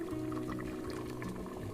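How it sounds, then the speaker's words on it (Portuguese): Sautéed seasoning for a simple pot of beans is poured from a pan into the pot, giving a steady, continuous pouring and sizzling liquid sound up close, with no talking. "E transfiro o meu refogado"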